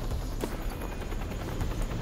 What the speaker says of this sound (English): I can hear the helicopter, but I can't actually see it.